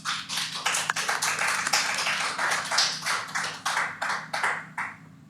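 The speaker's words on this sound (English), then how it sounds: "So give them a round of applause." Audience applause at a tech security conference talk: dense, steady clapping from a crowd, fairly loud and sustained, with individual claps spiking through the wash the whole time and no voices.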